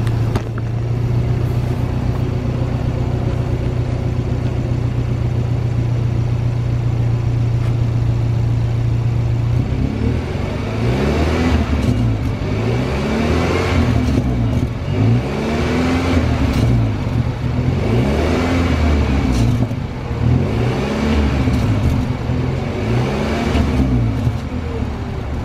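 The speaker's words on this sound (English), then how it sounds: "let's go ahead and give you guys this exhaust note real quick" A 2019 BMW X4 idles after starting with a quiet, steady exhaust hum, then a series of short throttle blips rise and fall every few seconds, close and moderately loud.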